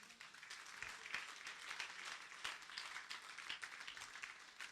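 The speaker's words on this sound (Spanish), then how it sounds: "Denle un aplauso al Señor." A church congregation applauds the Lord in a Spanish-language service, a soft, distant wash of many hands clapping steadily throughout.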